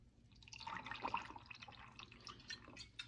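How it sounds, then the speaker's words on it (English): Two ounces of peach schnapps being poured into a glass for a white wine spritz, a faint, close trickle of liquid with small dripping splashes that runs for a few seconds. "To this, we're going to add 2 ounces of peach schnapps"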